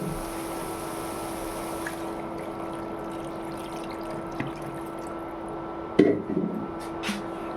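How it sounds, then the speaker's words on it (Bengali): Water poured into a pan of fried masala while cooking small fish, a steady trickling flow heard close up with a few clattering knocks near the end. "এখন জল দিল"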